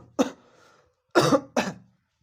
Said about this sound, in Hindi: खांसी भी जा नहीं रही है